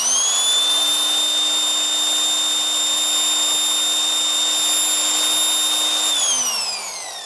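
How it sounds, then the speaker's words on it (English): A power drill running in reverse whines at a steady high pitch close by, then winds down as the motor slows toward the end. "Put the drill in reverse."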